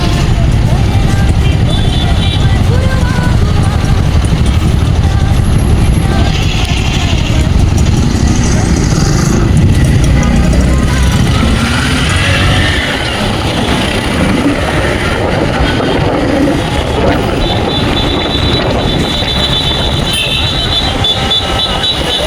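Heavy road traffic on the Thiruvarur route, a continuous loud rumble of engines and passing vehicles heard up close on the move, with horns and talking mixed in.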